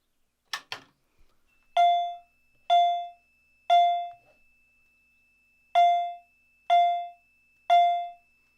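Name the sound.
fire alarm vibrating chime sounding temporal code 3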